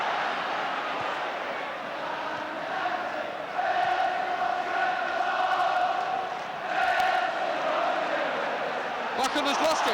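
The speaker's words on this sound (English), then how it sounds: "Crowd now willing to cheer at every move." A football stadium crowd at a Manchester United versus Wolves match roars steadily throughout, with cheering swelling twice into louder surges. A voice is heard in places under the roar.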